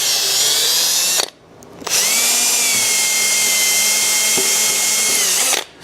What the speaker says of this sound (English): we're just going to slowly work our way up with different size drill bits